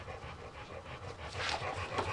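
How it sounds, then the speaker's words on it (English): A dog pants steadily close by, quick rhythmic breaths running unbroken for the whole stretch with no one talking. "It's not me panting, by the way, it's the dog."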